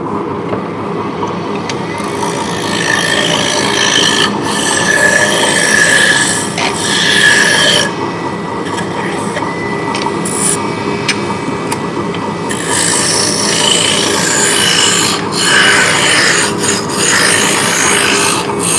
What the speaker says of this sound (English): So we are turning hard maple today.